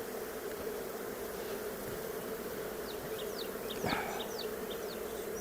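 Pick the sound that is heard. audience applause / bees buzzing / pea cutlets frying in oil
bees buzzing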